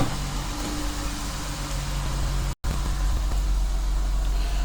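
A 2014–2015 Dodge Durango or Jeep Grand Cherokee idles steadily after a remote start, a low continuous engine hum with fan noise that cuts out for an instant midway, then resumes unchanged.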